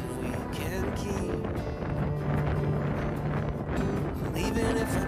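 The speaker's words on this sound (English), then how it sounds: "It's so windy up here" Strong wind buffets the microphone on the summit of Mount Moosilauke along the Appalachian Trail, a steady loud roar with gusty rumbling throughout, and a voice faintly present beneath it.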